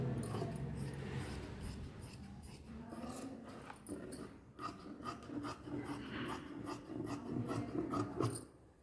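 Scissors cut through chudidhar fabric in a steady series of rasping snips close by, with a low background murmur and a faint sound at times like a dog.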